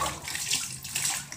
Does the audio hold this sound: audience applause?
no